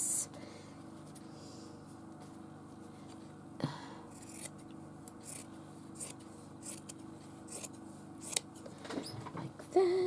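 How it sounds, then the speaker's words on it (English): Scissors cutting a piece of fabric for stitching, close-up soft snips and rasping cuts in irregular bursts over a low steady background hum, louder clips toward the end. "So I'm just going to cut a piece out as best I can here."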